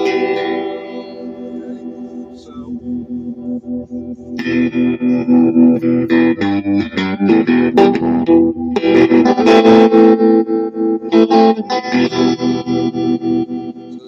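A 1973 Fender Deluxe Reverb combo amp with an Oxford speaker, played with an electric guitar, gives chords and single notes that start softly and then grow louder and slightly broken up, with reverb tails and strummed bursts, no talking.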